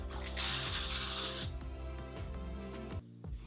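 Aerosol hairspray sprayed upward into a lifted top layer of loosely curled hair, a loud close hiss lasting about a second before cutting off, then quieter background music.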